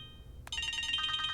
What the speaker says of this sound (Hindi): सांडू भाई को फोन लगाइए, बुलाइए